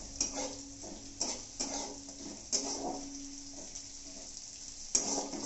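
Basmati rice frying in a pan over a medium flame, a quiet steady sizzle broken by several sharp clinks and scrapes of a utensil stirring against the pan.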